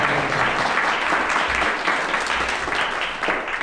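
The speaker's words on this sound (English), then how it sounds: "Let's give them a round of applause." An audience at a chamber of commerce luncheon applauds in a dense, steady wash of clapping that stays loud and even throughout.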